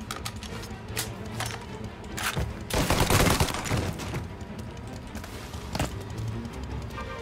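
Gunfire in the video game Mafia: Definitive Edition rattles in rapid fusillades and bursts over continuous game noise, loudest in a sustained volley midway, with scattered single shots after.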